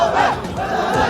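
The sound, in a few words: large agitated crowd at a political clash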